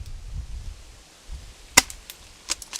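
A Franchi SAS12 short airsoft pump shotgun fires 0.20 g BBs: one sharp, crisp crack nearby, then a few fainter clicks and taps from the pump action, over a quiet background.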